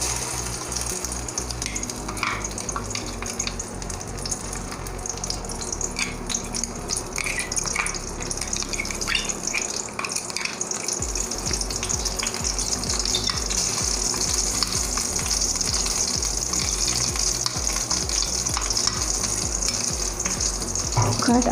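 Poppy seed paste frying in a wok, a continuous loud sizzle and hiss with scraping stirring sounds and a brief lull midway, no voices.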